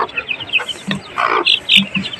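A domestic hen with her chicks, clucking close and loud in quick bursts mixed with the high, thin peeping of the young birds.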